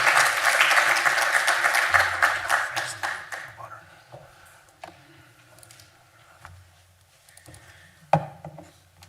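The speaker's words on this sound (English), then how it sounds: "give him a big warm round of applause" An audience at an accounting alumni conference at ATU Sligo applauds the first speaker. The loud, dense clapping lasts about two seconds, then thins into scattered claps and small taps before one last sharp clap near the end.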